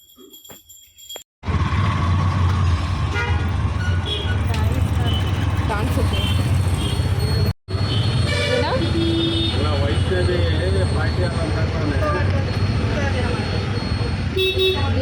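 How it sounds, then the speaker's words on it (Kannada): Busy road traffic with cars and buses, with sharp horn toots sounding repeatedly over a continuous engine and road rumble, and people talking nearby in the vehicle. "ಏನು ಇವತ್ತು ಇಷ್ಟೊಂದು ಟ್ರಾಫಿಕ್ ನಮಗೆ"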